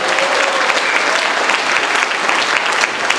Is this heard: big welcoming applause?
yes